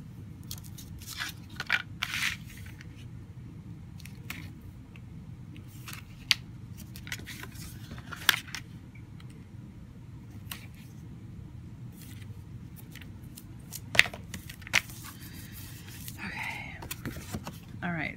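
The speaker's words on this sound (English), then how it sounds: "Put our tape on." Tape being applied to a mini album page, with faint scattered crinkles, taps and peeling sounds up close over a low background hum, sparse and quiet throughout.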